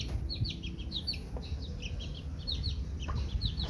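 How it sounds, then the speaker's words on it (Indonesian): Chickens keep up soft, repeated clucks and chirps, mid-distance, over a low rumbling background hum. "Ayam ini melihat kucing makan."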